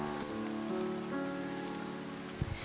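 Heavy rain falling as a steady, soft hiss of drops, with faint tonal sounds underneath and a brief thump near the end.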